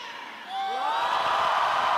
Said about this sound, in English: So the crowd just being cranked up a little bit here